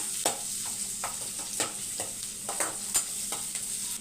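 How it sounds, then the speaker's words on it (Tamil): Big onions sautéing in a pan with crushed garlic, giving a steady hiss of frying under repeated rhythmic scrapes of a spatula stirring, close and moderately loud, with no talk. "பெரிய வெங்காயம் வெங்காயம் வதங்கட்டும்"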